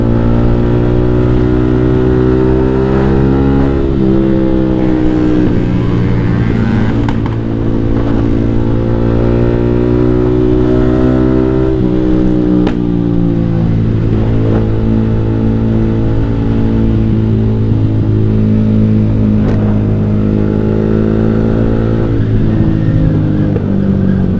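A motorcycle with a JB159 trioval exhaust, the exhaust previously crashed and bent back into shape, idles loudly up close and rises in repeated revving swells with a throaty, buzzing drone.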